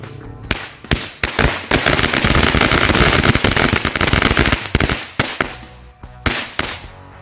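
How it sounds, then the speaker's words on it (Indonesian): Two bundles of mercon korek firecrackers go off near a house, a few scattered sharp pops building into a loud, dense crackling barrage, then tapering into isolated bangs. "Yang pertama kita nyalakan 2 gepok mercon korek."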